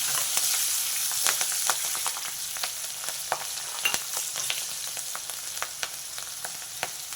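Red chilli powder and green chillies frying in a pan for a drumstick masala gravy curry, giving a continuous bright sizzle dotted with frequent small crackles and pops, close and steady throughout, with no talking.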